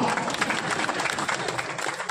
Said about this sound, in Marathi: टाळ्या आणि एकदा वाजवा